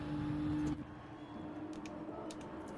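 A Gr.3 race car in Gran Turismo 7 heading into the pits, its engine a loud steady drone that drops suddenly to a quieter, even hum as it slows onto pit lane, with no talking.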